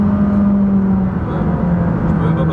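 A McLaren 570S engine drones loudly and steadily at high revs, heard from inside the cabin on a desert road near Las Vegas. The tone holds fairly even for the whole stretch.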